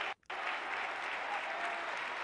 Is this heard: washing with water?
no